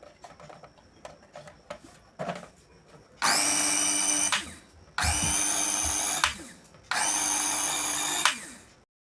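A repaired mini mixer grinder motor, freshly oiled with its screws tightened, runs for three loud test bursts of steady high whine, each lasting about a second and a half with short pauses between, after a few light clicks of handling.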